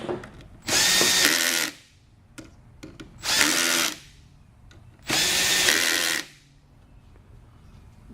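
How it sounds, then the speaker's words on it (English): A power driver tightens the drive motor screws in a crisscross pattern, giving three loud, close whirring bursts of about a second each. Quieter clicks and handling noises fall between the bursts. "Now we tighten the drive motor screws."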